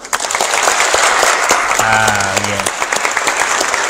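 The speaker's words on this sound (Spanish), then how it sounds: "Y aplaudimos." An audience at a university conference gives a burst of applause, continuous clapping from a nearby crowd, with a brief spoken remark in the middle.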